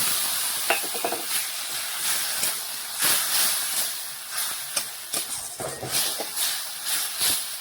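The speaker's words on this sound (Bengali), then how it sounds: "এখন একটু মশলার বাটিটা ধুয়ে জল দিয়ে দিচ্ছি" Water hits a hot pan of frying spices and tomato for a Bengali cauliflower and egg curry, producing a loud, steady sizzle and hiss with crackling bursts throughout.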